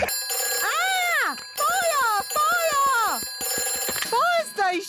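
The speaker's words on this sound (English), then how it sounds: "Daddy Pig, You're not supposed to ring on this phone." Cartoon telephone rings in repeated warbling bursts, loud and close, with short gaps between rings and a brief clicky patter in one burst.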